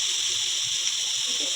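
Boiled jackfruit and potato sizzle lightly in hot oil in a pan, giving a steady close hiss with faint crackles throughout.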